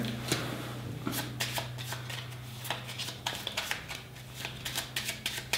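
Playing cards being shuffled close by, a quick run of riffling and soft slapping bursts over a low steady hum.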